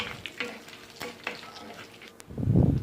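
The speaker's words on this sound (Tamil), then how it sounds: "எடுத்துகிட்டு போட்டு கொஞ்சம் எண்ணெயில் நல்லா இதை வதங்கட்டும்." Dried red chillies and curry leaves fry in oil for a kuzhambu, with sharp stirring taps and scrapes against the pan before a loud, bubbling sizzle swells up near the end.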